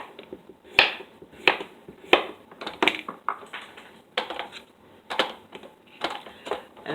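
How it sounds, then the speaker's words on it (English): A knife slicing food on a cutting board during keto meal prep, about a dozen crisp close chops in an uneven rhythm, heard alone. "So I'm just going to slice these up"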